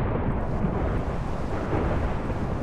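Steady, loud thunder rumbles together with rain noise during a storm in the Minecraft video game, a dense continuous roar with no talking.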